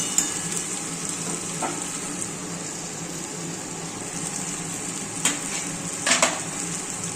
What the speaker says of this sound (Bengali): দেখো মশলা তেল সব আলাদা হয়ে যাচ্ছে, তার মানেই ভালো করে কষানো হয়ে গেছে